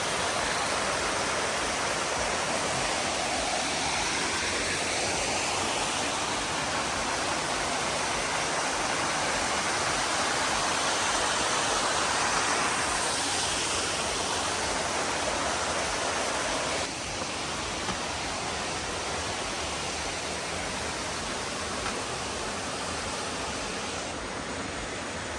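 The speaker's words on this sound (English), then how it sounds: "just enjoy the sounds of the waterfall" Small grotto waterfall at Obudu Mountain Resort, a steady full-band rush of falling water that stays loud and close throughout without pause.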